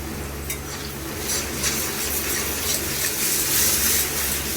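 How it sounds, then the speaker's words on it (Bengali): Ground spice paste, salt and turmeric go into hot oil already holding cinnamon and whole cumin, giving a loud, steady sizzle and spatter throughout with faint stirring scrapes, close up and without speech. "এবার যে মশলাটা করলাম সেটা দিয়ে দিচ্ছি দিয়ে দিচ্ছি পরিমাণ মতন লবণ আর হলুদ"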